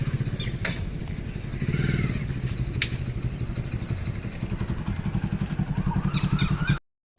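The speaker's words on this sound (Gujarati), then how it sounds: "બાઇક ચાલુ કરીએ તો ચાલો ક્યાંક આટો મળતા" A motorcycle engine runs close by with a steady putter and some clattering, then cuts off abruptly at the end.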